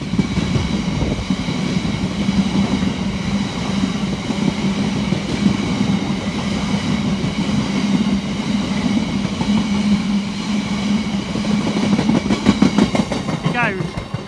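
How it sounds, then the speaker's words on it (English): A Freightliner freight train passes close by, with a loud continuous rumble and rhythmic clatter of wagons over the rails throughout. "Come on, Freightliner. Sound a horn for Christmas."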